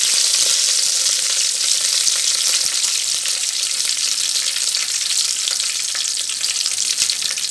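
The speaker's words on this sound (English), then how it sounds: "the sound of curry leaves popping up." Curry leaves tempering in hot oil for a fish curry, giving a loud, steady, hissing sizzle with dense crackling pops throughout, close and with no voices.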